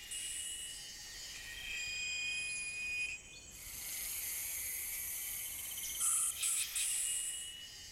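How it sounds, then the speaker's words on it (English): Jungle insects call together in layered, interlocking high-pitched chirps and trills, a steady dense chorus with brief pulsing bursts near the end, with no voices present. "Insects work in harmony, timing their calls to fall between the notes of others."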